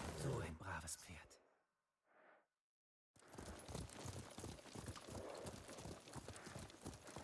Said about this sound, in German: So ein braves Pferd.